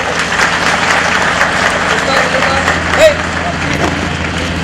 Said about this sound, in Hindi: सब लोग तालियों से